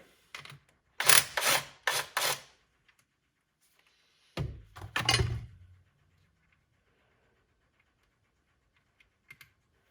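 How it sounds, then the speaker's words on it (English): A nut being worked loose with a tool on a Chevy Trax during a trailer hitch and wiring install: three quick bursts of metallic ratcheting, then a longer grinding turn, close and fairly loud, followed by near silence with faint taps. "we can go ahead and disconnect this nut."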